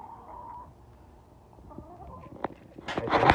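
A Blue Favaucana hen makes creaky, hinge-like clucks. The first part is quiet, then a few sharp notes build into louder, raspy clucking close by near the end.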